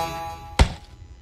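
A spring boinger launching in the Henry Stickmin game Fleeing the Complex, a single sudden heavy thunk over a low background hum, loud and brief.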